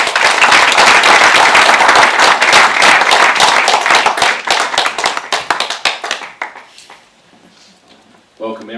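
An audience claps loudly and densely for a speaker introduced as a pitch specialist, the applause fading into scattered claps over several seconds before a voice begins at the end.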